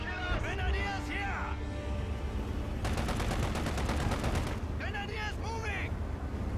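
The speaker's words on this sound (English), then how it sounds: "They're taking Panzer fire!" Heavy Panzer gunfire and explosions from a World War II battle at Oosterbeek in Company of Heroes 2, with a rapid rattling burst in the middle, set under continuous excited commentary and game voices.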